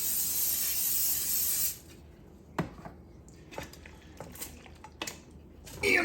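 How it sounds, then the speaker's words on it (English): A steady hiss of cooking oil spray into a 15 by 10 casserole dish lasts nearly two seconds, followed by scattered clinks and taps of kitchenware, then a short rustle. "Spray it with oil."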